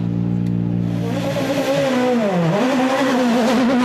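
A rally car at Rally Monte Carlo sounds up close and loud: the engine note rises and falls through gear changes, dipping once and then climbing again as it drives fast.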